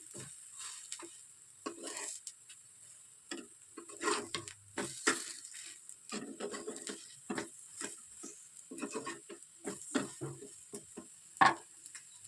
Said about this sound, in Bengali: পেঁয়াজিটা দেখো ভাজতে দিয়ে দিয়েছি এই যে অল্প একটু তেল বুলিয়ে নিয়েছি